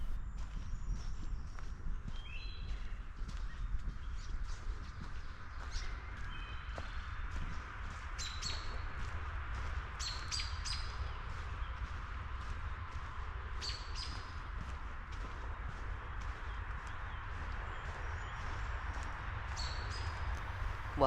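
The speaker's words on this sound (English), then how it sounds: "If anybody can identify any of the birdsong we're hearing today, please let me know in the comments." Birds chirp and sing in short scattered bursts around a wooded disc golf course, fairly faint over a steady low outdoor rumble, with no one talking.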